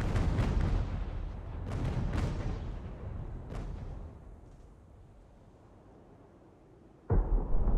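Naval cannon broadsides from sailing warships in the game Ultimate Admiral: Age of Sail, several heavy booms over the first few seconds fading into a low rumble, then another sharp blast near the end.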